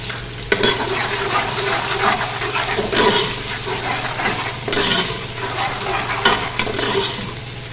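Grated ginger-garlic paste sizzles and crackles steadily in oil in a pan, with occasional louder bursts and stirring sounds, close up and continuous throughout.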